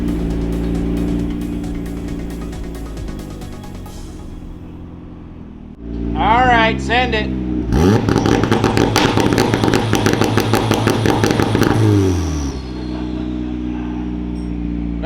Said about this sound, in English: watch me do the first, like, bounce off rev limiter here and the engine blows up